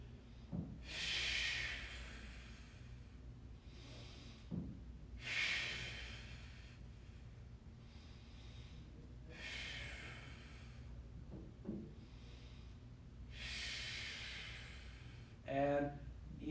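Deep, slow breathing during stick-assisted hamstring stretching in a mobility class: several long, airy inhales and exhales come in regular waves, close and fairly quiet.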